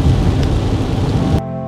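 Steady rain pours at Ohnuma campsite in Atsuma, Hokkaido, a dense, loud wash of drops that cuts off abruptly near the end.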